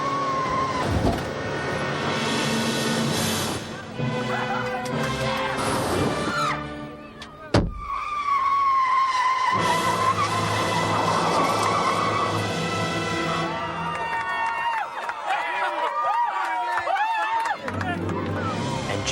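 A runaway driverless bus careens and skids amid loud rumbling engine and road noise, a sharp slam partway through, and excited crowd hubbub and shouting voices throughout.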